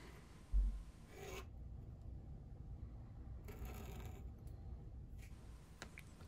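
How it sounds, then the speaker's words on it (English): Scratch awl scribing around a pattern on leather for a trowel holster, a soft rasping scrape in short strokes with gaps of quiet between, faint and close, no talking. "just mark around the pattern with a scratch awl"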